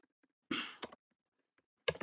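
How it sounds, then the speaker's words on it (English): Computer keyboard typing during a CSS flexbox coding session: a few sparse, faint key taps, then a short, louder flurry of keystrokes and a final brief burst near the end, in an otherwise quiet room. "Okay, I'm typing on the wrong one."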